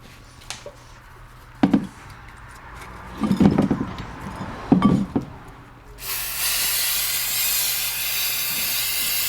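Brake parts from a 2007 EZGO TXT gas golf cart are rinsed with a spray. A few clicks and clanks come first, then a loud, steady, close hiss runs unbroken until the end.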